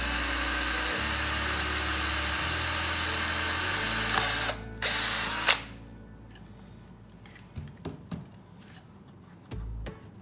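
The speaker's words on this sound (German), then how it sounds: "Das Acryl lässt sich hier auch hervorragend bohren" Power drill boring into acrylic while restoring the turntable of an Anycubic Wash & Cure unit, a loud steady whine that shifts pitch in steps, then stops abruptly around the middle, followed by quieter scattered handling clicks and brief bursts.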